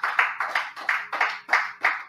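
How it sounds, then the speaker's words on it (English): A church congregation gives a hand clap of praise, a few rhythmic, fairly loud rounds of clapping in a roomy space, with no speech. "Let's give God a hand clap of praise."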